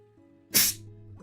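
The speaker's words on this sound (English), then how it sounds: "Sorry, I had to sneeze." A single sharp sneeze bursts out close by over a quiet low hum.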